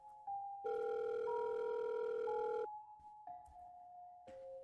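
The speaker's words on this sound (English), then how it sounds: "The ringing sound of the phone echoed across the cramped space through the car's speaker." A phone call rings out through a car's speaker in a cramped space inside a video game, a few sustained electronic ring tones with short gaps, fairly quiet and alone without talk.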